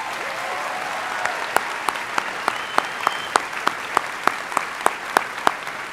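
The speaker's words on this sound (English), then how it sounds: "A round of applause for our facilities team." A commencement audience at Juniata College applauds the facilities team with a broad, moderately loud wash of clapping, punctuated by a regular series of sharp, prominent claps close by.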